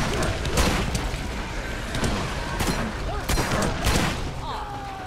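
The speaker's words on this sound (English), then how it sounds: "Everything's better with explosions." Explosions and gunfire from the video game Borderlands, a steady barrage of booming blasts and rapid shots that rolls on without pause and stays loud throughout.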